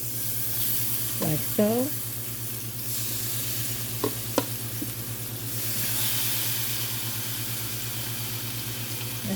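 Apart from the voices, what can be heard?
seasoned chicken sizzling in a skillet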